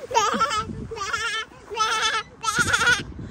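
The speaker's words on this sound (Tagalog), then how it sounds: "Kambing yon." A goat bleats four times in quick succession, each call a loud, wavering, nasal cry close by with short pauses between.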